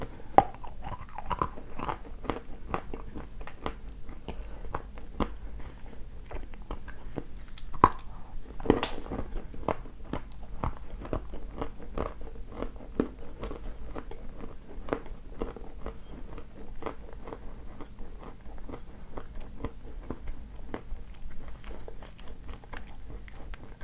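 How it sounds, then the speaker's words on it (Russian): Chewing a coffee-flavoured Tatarskaya Roza sweet, a layered candy, close up with soft repeated crunches and moist squishy bites at an uneven rhythm, quiet and steady, no talk. "Я люблю ее долго жевать."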